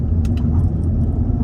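Mercedes-Benz SL65 being driven, a loud steady low engine and road rumble heard from inside, with a few light metallic jangles over it and no talking.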